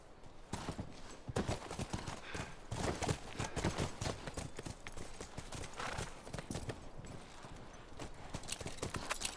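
Horse hooves clip-clop steadily in The Last of Us video game, a continuous busy run of hoof strikes across the whole stretch, fairly close, with an occasional snort or whinny mixed in.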